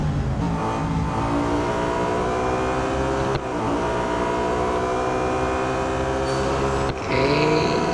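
BMW M3 GTR racing in Real Racing 3, engine droning loud and steady throughout with rising and falling revs and gear-shift breaks, no talk over it.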